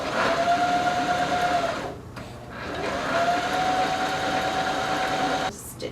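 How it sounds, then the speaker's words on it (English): A sewing machine stitches a bikini swimsuit with a steady, close motor whir, pauses briefly, then runs again at an even pace before stopping. "And I'm going to go ahead and stitch."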